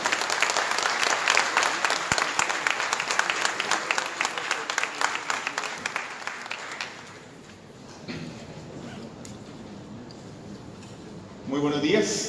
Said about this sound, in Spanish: Lo recibimos con el aplauso sincero a Johnny Navarro.